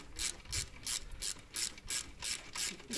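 A hand ratchet tightening shock absorber bolts on a 125cc bobber motorcycle, giving a steady run of rhythmic, close clicking strokes about every third of a second, fairly quiet with no talk.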